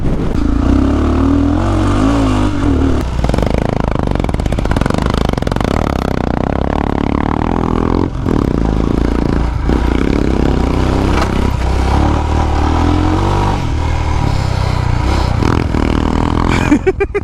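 A motorbike engine revs and strains continuously while climbing the steep Dibbagiri hills, loud and close with clattering and scraping over rough ground, and voices talking over it.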